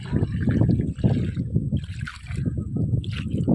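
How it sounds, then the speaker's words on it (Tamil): Water gurgles and trickles steadily at close range as it is poured onto newly planted curry leaf plants, a low continuous pour with splashy bubbling throughout. "தண்ணி ஊற்றுவோம்"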